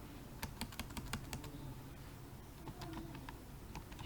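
Quiet, steady typing on a computer keyboard, rapid irregular keystrokes clicking nearby over a faint background hum, with no voices.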